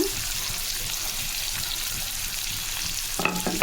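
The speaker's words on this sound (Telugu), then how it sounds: "ఇప్పుడు ఇవి బాగా బ్రౌన్ అలా వచ్చేదాకా వేసుకోవాలి" Large chopped onions fry in a pan for mutton curry, making a constant loud sizzle with stirring scrapes and a brief clatter near the end.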